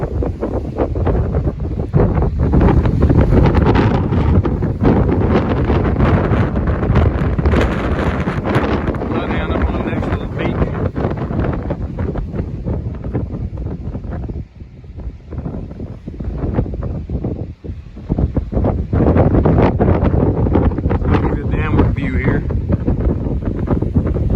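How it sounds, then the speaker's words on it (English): Strong wind blasting a microphone on exposed cliffs along the Appalachian Trail, a loud, roaring rumble that buffets steadily and dips briefly in the middle before surging back, with talk faintly mixed in. "The wind is actually blowing me backwards."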